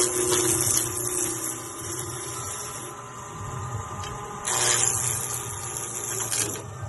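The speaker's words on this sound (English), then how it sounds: "I'm going to rough it out with my round skew chisel" A round skew chisel roughs out a wood blank spinning on a lathe, producing a continuous scraping, rasping cut with irregular surges and a louder burst partway through, alone with no talking.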